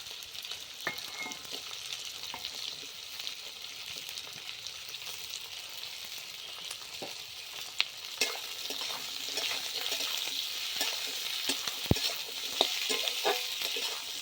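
Capsicum sizzles with fried onion pieces in a pan for chilli cauliflower, a moderate frying hiss broken by repeated spatula scrapes and clacks as the mix is stirred, with no talking.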